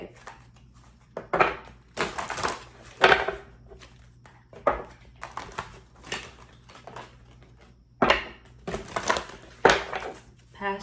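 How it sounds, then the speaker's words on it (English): Tarot cards being shuffled by hand close to the microphone, with irregular bursts of riffling and rustling separated by quiet gaps, moderately loud over a faint hum. "I'm going to be shuffling. If it's too loud, just turn the volume down."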